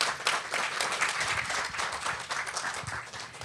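An audience at a Founding 50 inaugural celebration applauds. Dense, steady clapping from a crowd fills the room throughout, with no voices heard.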